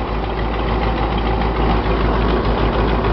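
A Ford F700 stake-body truck with a 370 V8 and electronic ignition runs steadily at idle, a loud, close, continuous low rumble with a slight uneven throb and no talking.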